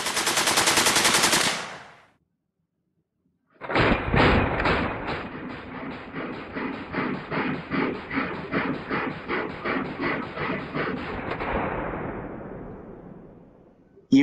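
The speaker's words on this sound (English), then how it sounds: "high-powered shells shooting in rapid succession" Browning Automatic Rifle firing in rapid succession: a brief burst, a pause, then a long sustained string of loud, evenly spaced shots that slowly fade out.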